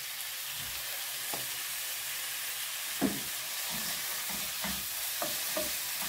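Vegetables and shrimp frying in a pan over heat, a continuous close sizzle with occasional stirring clanks and scrapes and no voices.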